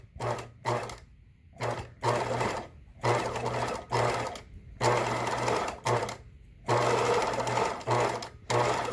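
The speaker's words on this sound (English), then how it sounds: "I'm ready to sew my edge stitch all the way down" A sewing machine runs an edge stitch along a Hong Kong seam finish in several close, loud bursts of steady whirring, with short pauses between runs and no talking.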